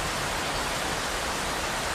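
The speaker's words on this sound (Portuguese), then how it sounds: "Olha a chuva." Rain falls as a steady, dense hiss with no breaks, fairly close and moderately loud, without voices.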